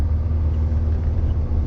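A manual-transmission car pulls in fourth gear after the clutch comes out, giving a steady, close engine drone with a constant low hum and no pauses or voices.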